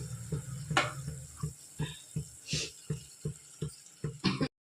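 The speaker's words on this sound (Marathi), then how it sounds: "पाणी उकळलंय आता मस्त असं हटून घेते आता" A spoon scrapes and knocks rhythmically against a pot, about two strokes a second, as thick gram-flour pithla batter is stirred into boiling water, with faint sizzling in between.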